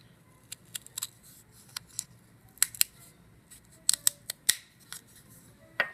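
Scissors snipping popsicle sticks, a series of sharp, close clicks and crunchy cuts spaced irregularly, sometimes in quick pairs, over a quiet background.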